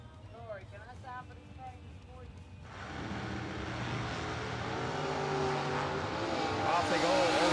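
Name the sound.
drag race cars launching, including Corvette Roadster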